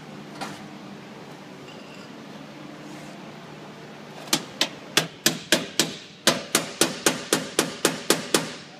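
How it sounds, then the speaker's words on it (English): Metal hammer blows ring out on a 1972 Mustang Mach 1 fender apron, starting after a quiet stretch and settling into a quick, regular series of about fifteen sharp, close strikes. "All right, now I need the hammer."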